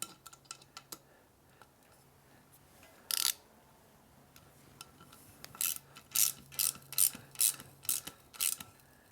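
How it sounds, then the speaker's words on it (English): Repeated ratcheting clicks from a torque wrench tightening the stem bolts on an RXL SL mountain bike bar and stem, a single click early on, then a rapid run of about eight sharp clicks near the end, close and clear with no talk. "set your torque spec to 5 Newton meters, and I'm going to start with the top here"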